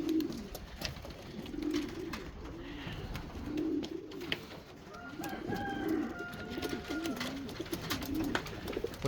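Racing pigeon hens outside give low, throaty coos in a repeating rhythm, close and clear, with a few other bird calls and light background noise.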